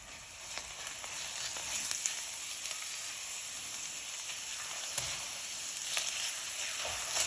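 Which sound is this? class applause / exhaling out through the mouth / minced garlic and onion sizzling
minced garlic and onion sizzling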